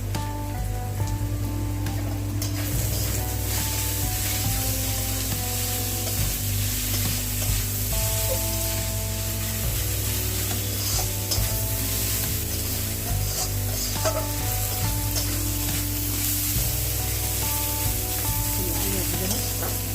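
Mixed vegetables fry in a pan with turmeric powder for a Bengali vegetable chop, giving a steady, close sizzle with occasional stirring scrapes across the whole stretch and no talk.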